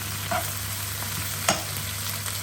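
Spinach tossed into a hot frying pan over high heat, a steady close sizzle with a few soft stirring clicks and one sharper knock against the pan, no talking.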